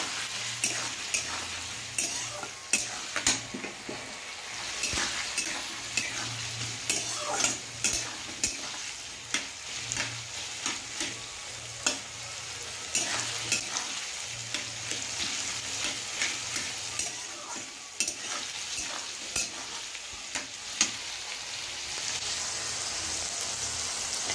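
Mixed vegetables with chopped tomatoes frying in a pan, a continuous sizzle broken by repeated scraping and clattering stirs at an irregular rhythm, close and fairly loud with no one speaking.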